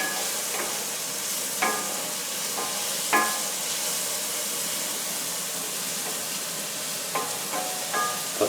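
Onions sauté in a pan with a steady, even sizzle, and a spoon scrapes and stirs through it now and then with soft clinks.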